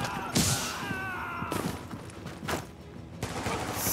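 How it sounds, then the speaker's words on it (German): A grenade blast and gunfire in the video game The Division: sharp loud bursts and thuds scattered over about four seconds, several heavy impacts standing out against a busy combat background. "Oh, eine Granate."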